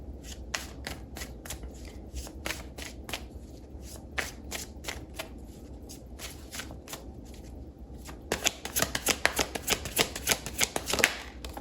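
A deck of tarot-style career cards is shuffled by hand, with crisp riffle clicks spaced out at first and then a quicker, louder flurry near the end, close and alone.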